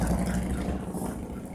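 A loud motorcycle engine drones close by, a rough continuous roar that dips slightly partway through.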